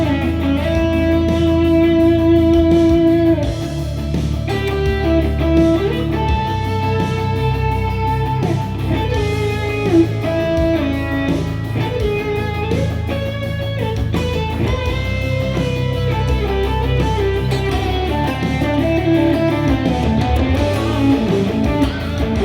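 An electric guitar solo over a full band backing, with whole-step string bends and singing vibrato on held notes, a clear lead line that carries on continuously above drums and bass.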